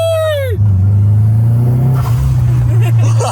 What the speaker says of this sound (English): floor it for a second, get some blow-off valve to pop